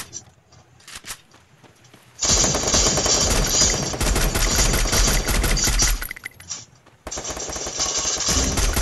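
Rapid gunfire in a World War shooter video game, a shotgun among the weapons, with dense, loud bursts of repeated shots after a quieter opening, broken by a short pause before firing resumes.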